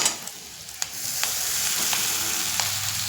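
Flattened rice goes into a pan of roasted onions, making a steady close sizzle punctuated by a few crisp clicks and taps of a spatula.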